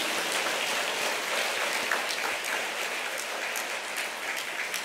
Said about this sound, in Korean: 자, 박수 치고 들어가요.